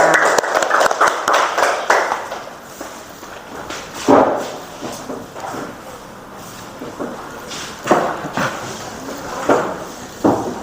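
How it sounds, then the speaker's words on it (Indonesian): Classroom applause for a student group that has just presented, with scattered hand claps and taps coming in uneven bursts that fade and pick up again across the room. "Ya, tepuk tangan buat kelompok 3."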